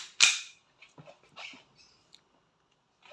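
A WE 2011 Hi-Capa 5.1R airsoft gas blowback pistol fires one sharp, loud crack at close range. Softer mechanical clicks and handling noises follow as the slide locks open and is released.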